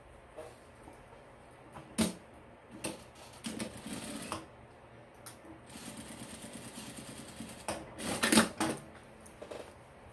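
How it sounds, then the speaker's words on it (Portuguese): A sewing machine restitches loose fabric on a 3D fabric toiletry bag, its quiet, uneven runs of stitching broken by louder clacks and short pauses, with no talk. "então eu vou costurar de novo aqui embaixo"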